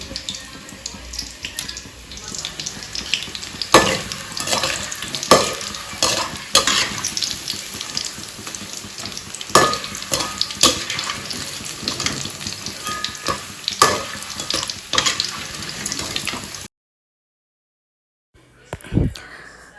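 Green chillies frying in hot oil in a pan, a loud close crackling sizzle with sharp pops and bursts that runs steadily for most of the stretch, then drops to silence before a brief final clatter.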